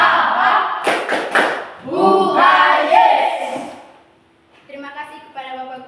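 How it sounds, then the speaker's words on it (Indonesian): A school group's rhythmic clapping chant, tepuk semangat, with a burst of quick claps followed by sung and shouted chant lines in unison, close and loud, ending in a brief lull before the voices resume. "Tepuk semangat."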